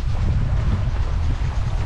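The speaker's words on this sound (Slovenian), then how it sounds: "Visoki valovi, močen veter." Strong wind roars over a sailboat on the open ocean in high waves, a loud, constant low rumble with gusts buffeting the microphone.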